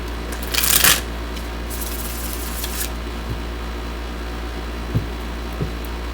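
A tarot card deck is shuffled in one brisk riffling burst near the start, followed by a quiet stretch broken only by a few faint taps and handling sounds.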